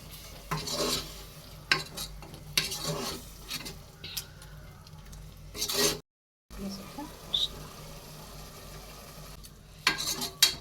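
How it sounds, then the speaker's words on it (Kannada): Tomato puree going into a hot pan for a mutton dish, stirred with scraping strokes over a steady soft sizzle, with a brief break partway through. "ಈಗ ಟೊಮೆಟೊ ಪ್ಯೂರಿನ ಹಾಕ್ತಾಯಿದ್ದೀನಿ"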